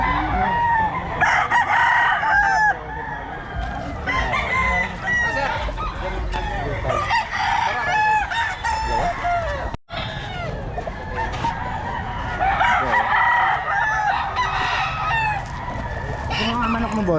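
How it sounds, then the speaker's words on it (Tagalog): Many chickens and roosters on a Filipino poultry setup crow repeatedly and cluck nearby, a dense continuous chorus with overlapping cock-a-doodle calls throughout, briefly dropping out for a moment midway before resuming at full loudness. "Ito mga manok mo, boss. Mga manok mo."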